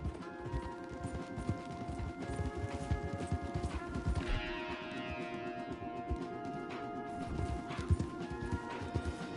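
Steady clip-clop of several horses' hooves trotting close by in the video game Red Dead Redemption 2, with a brief horse whinny and some clattering mixed in.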